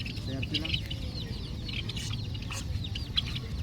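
Small chicks at a market stall peep and chirp in quick, high, busy bursts over a steady low rumble of background noise, fairly close and continuous.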